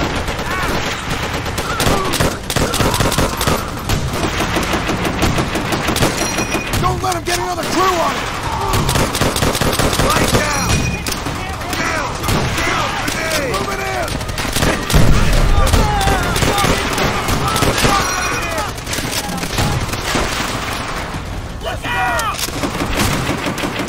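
Call of Duty: World at War beach assault with a machine gun hammering in sustained loud bursts, layered over heavy battle gunfire and explosions, with shouted voices under the din.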